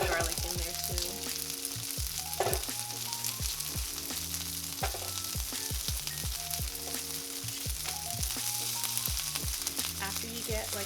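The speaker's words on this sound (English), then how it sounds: "I'm gonna go ahead and sear off my onions. And I'm gonna throw the garlic in there too." Onions and garlic sear in a hot pan for birria tacos. A steady sizzle runs under rhythmic music with a pulsing beat throughout.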